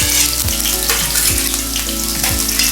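Onions frying in hot oil in a kadhai for pav bhaji, a loud, close, steady sizzle with a few bubbling surges.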